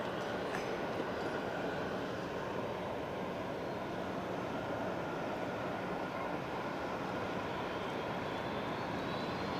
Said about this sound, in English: EasyJet from Manchester next.